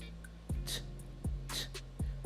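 Sparse FL Studio hi-hat hits filled every eight steps sound as bright hissy bursts spaced widely apart, layered over punchy low kick thumps and a sustained bass tone, with no talking.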